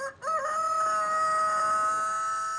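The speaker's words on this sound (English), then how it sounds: "Roosters are crowing." A single rooster crows nearby in a long, drawn-out call, loud and clear with no other sounds.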